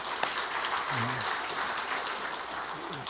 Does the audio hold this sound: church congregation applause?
yes